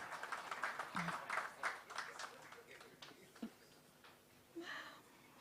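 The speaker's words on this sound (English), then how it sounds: "A round of applause for them, please." Scattered applause from an audience at a bank's business app launch event, quiet and fading, with clearly separate claps and a voice speaking over it.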